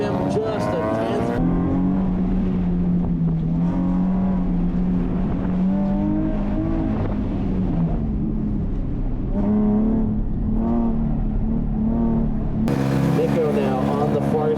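Race car in a Nissan 370Z running an autocross course at a national tour event: a loud engine held steady and surging through gear changes. A commentator talks over it the whole time.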